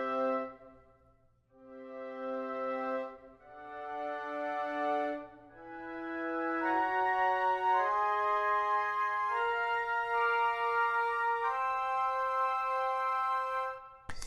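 An orchestral woodwind ensemble from the Hollywood Winds sample library plays slow sustained chords that step upward, layered reed and flute tones swelling together in a smooth, clean arrangement.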